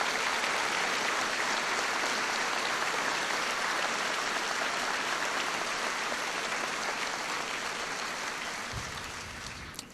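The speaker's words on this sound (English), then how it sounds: "please give him a round of applause as a form of thank you" Audience at a 1999 high school commencement applauds, a sustained wash of clapping that holds steady and then tapers off near the end, with no speech over it.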